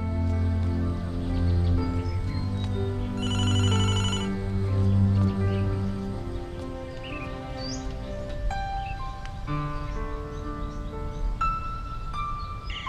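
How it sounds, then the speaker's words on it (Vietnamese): A telephone rings indoors during a Vietnamese Tet comedy scene, its bright repeating electronic trill carrying over background music and ambient noise, fairly loud and sustained for several seconds. "Thôi em có điện thoại rồi."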